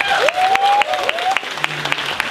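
Scattered, uneven clapping from a convention audience at a fan festival interview, a few distinct claps rising over a thin background with tonal whistles or feedback, thinning out toward the end.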